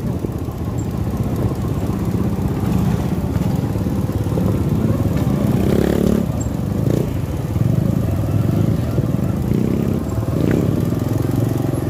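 Motorcycle engine running steadily near a beach behind the PLN site in Ampenan, Lombok, a continuous loud rumble with slight surges as it passes, no talk.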